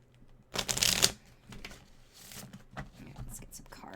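Tarot cards shuffle in one quick riffling burst close by, followed by softer sliding and tapping of the deck, with faint speech around it.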